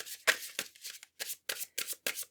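Tarot cards being shuffled by hand during a pick-a-card reading: about eight quick, close papery bursts of shuffling, separated by short pauses.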